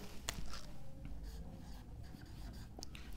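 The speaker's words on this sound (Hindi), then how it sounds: "अब इधर लिखेंगे" Marker or chalk writing math on a board during a Class 10 partial fractions lesson, with faint scratchy strokes and taps spread through the clip, quiet and close, with no talk.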